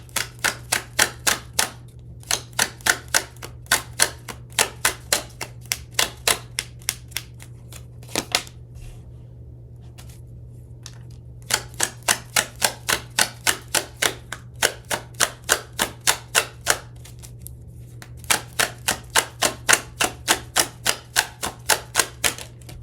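A tarot deck is shuffled by hand in repeated bursts of rapid, crisp card flicks. Short pauses separate the bursts, and a faint low hum sits underneath.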